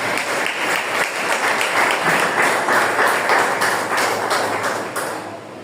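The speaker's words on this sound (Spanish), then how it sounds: "A ver, palmas al Señor." A church congregation claps during a Spanish-language sermon, dense steady applause filling the room loudly and continuously before tapering slightly at the end.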